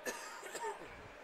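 A single cough rings out faintly in the distance within a large, echoing arena during a hockey game, with a low murmur of crowd noise behind it.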